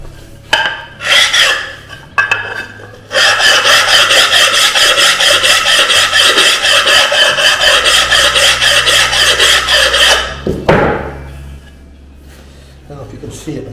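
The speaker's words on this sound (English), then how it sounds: "I want to make sure that I smooth this off so that you don't see the roughness of the cut edge" A rubbing stone scrapes along the cut edge of a black granite tile during a fireplace tile install, a steady close gritty rasp lasting several seconds after a few short strokes, with brief speech around it.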